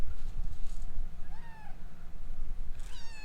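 A cat in a barn on a farm gives two or three short rising meows, close by, over a low steady rumble and faint background noise.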